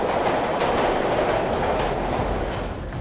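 A New York subway train rumbles past at close range, a loud continuous roar of wheels and carriages with faint clattering throughout.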